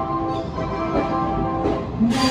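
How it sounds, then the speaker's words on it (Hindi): The Garib Rath express from Banaras pulls into platform 6 at Anand Vihar station, a steady rumble of rolling wheels and carriages with faint squeals, in the echoing station setting. "जो प्लेटफॉर्म नंबर 6 पे ट्रेन आई है वो है गरीब रथ, जो कि बनारस से चलकर आ रही है।"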